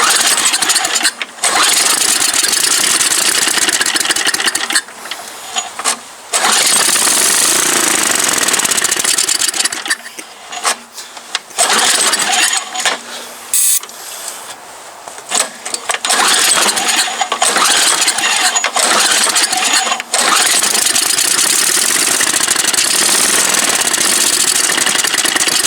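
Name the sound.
MTD Yard Machine snow blower engine starting and running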